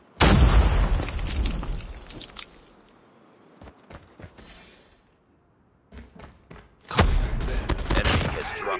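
A frag grenade detonates in Call of Duty Mobile with a heavy, close boom and a long rumbling tail, then a quiet stretch of scattered pops before a second loud blast of explosive noise.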